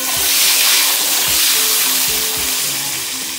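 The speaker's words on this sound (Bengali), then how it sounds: "আমি সব আস্তে আস্তে ভেজে নিই।" Vegetables or fish fry in a pan at home, a loud steady crackling sizzle with repeated low thumps from turning and stirring.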